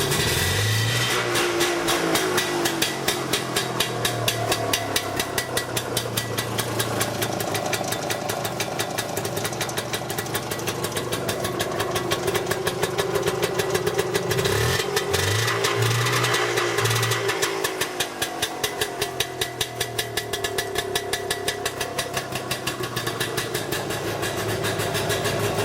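Messerschmitt microcar engine running steadily at idle, a close, continuous buzzing putter with a faint rise in revs partway through as a little throttle is added.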